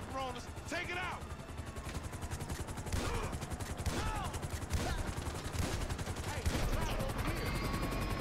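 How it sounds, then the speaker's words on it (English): Rapid automatic gunfire rattles continuously at a helicopter in Grand Theft Auto V, loud and sustained, with someone talking over the shooting. "We ain't going nowhere with that chopper on us. Take it out."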